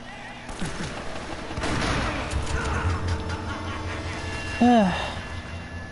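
Video game gunfire in Uncharted: a rapid cluster of shotgun blasts and crashing impacts amid in-game commotion and shouting, with a sharp louder shot near the end.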